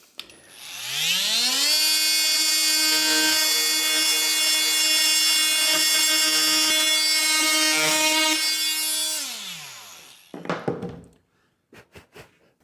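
A Hilti oscillating multitool trims a protruding wooden batten beside plaster, a steady high buzzing whine that ramps up, holds for about nine seconds and winds down, followed by a few light knocks.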